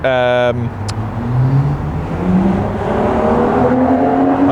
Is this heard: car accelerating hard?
yes